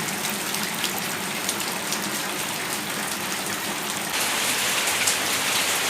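Steady heavy rain pouring down around a house in Sattahip, a dense close hiss of drops on surfaces that grows a little louder near the end, with no voices.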